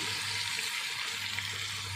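Jengkol beans frying in cooked sambal chili paste, a steady close sizzle with a low hum beneath.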